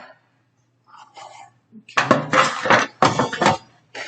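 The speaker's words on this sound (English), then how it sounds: "I'll use a stainless steel pot for that." A stainless steel stock pot is moved about a kitchen, giving several close metallic clanks and clattering knocks in quick bursts, with short gaps between them.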